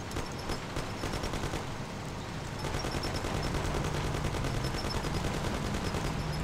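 Gunfire crackles in Mafia: The City of Lost Heaven, a steady stream of quick shots, some in rapid runs, over a constant background of game noise without speech.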